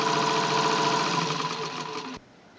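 Close and loud, a two-tone green Singer sewing machine runs in a fast, steady whirring hum, stitching continuously for about two seconds before stopping abruptly, leaving faint room noise.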